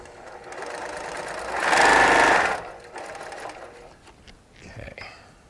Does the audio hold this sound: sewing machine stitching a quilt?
yes